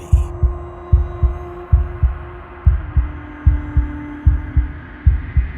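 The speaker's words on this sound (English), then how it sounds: "a wooden and fleshy heart beating with an unbroken rhythm" A wooden and fleshy heart from the video game Slay the Princess beats in an unbroken, steady double-thump rhythm. The beats are loud and close over a low, constant hum.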